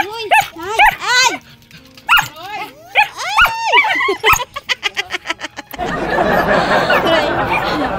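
Dogs bark in a rapid burst of sharp, close yelps, following excited speech and shouting, before giving way to a noisy wash of background sound.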